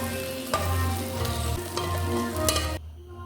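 An egg frying in a pan, a steady close sizzle with scraping and handling sounds, continuous for most of the stretch before cutting off abruptly into quiet.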